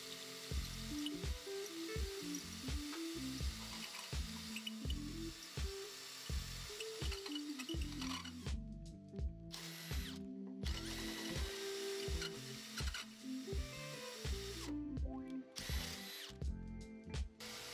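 A power drill fitted with a Toolant step bit bores through metal for a stand base, the motor grinding in repeated bursts with pauses and restarts, loud and close with no speech.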